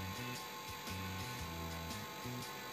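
A mini multipurpose electric grater's small dynamo motor whirs with a high, steady whine, running continuously and close with a slight warble in pitch.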